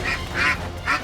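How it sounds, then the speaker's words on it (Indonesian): A duck outside near a kitchen and pen in a rural Indonesian home quacks three times in quick succession, loud and close, with no talk over it. "oh, ada bebek. Bebek."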